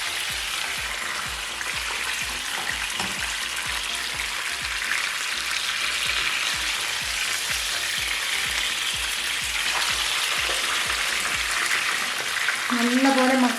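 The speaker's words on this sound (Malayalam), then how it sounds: "നമ്മളിത് മുറിക്കാതാണിത് വറുത്തെടുക്കുന്നത്" A whole, uncut fish fries in a pan of hot oil, giving a steady, dense sizzle that runs unbroken throughout, with faint scraping and a brief voice near the end.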